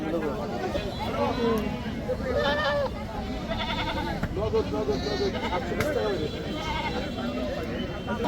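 Goats bleating repeatedly amid a noisy Eid livestock market in Bangladesh, with overlapping calls and crowd chatter in the background.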